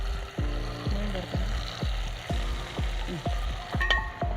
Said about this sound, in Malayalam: ചേച്ചി ഇഞ്ചി വെളുത്തുള്ളിയും ചേർത്ത് നന്നായിട്ട് വഴറ്റി.